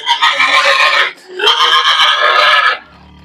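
Pigs grunting and squealing loudly in a pen on a small Philippine farm raising gilts over 100 kilos, two long harsh bursts back to back with a short pause between, close and without talk.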